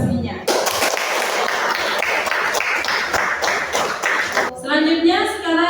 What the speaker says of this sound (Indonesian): Tepuk tangan untuk temannya yang sudah menyelesaikan presentasinya.